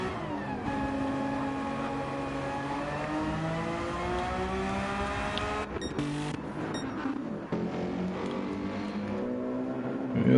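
Onboard engine of the 111 Mercedes race car lapping Interlagos in a racing game, a loud steady high-revving drone climbing through the gears with sharp shift breaks, running alone without talk.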